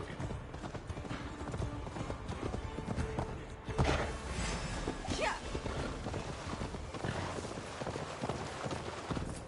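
A horse gallops in Assassin's Creed Valhalla, the rhythmic clip-clop of hooves running steadily under game music and ambience, with a swell of noise midway and voices speaking at points.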